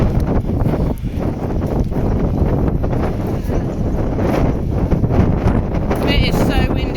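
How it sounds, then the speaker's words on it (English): Strong wind roars into the microphone on a coastal hike, a loud constant buffeting rush that fills the whole stretch, with a brief voice near the end. "It is so windy today."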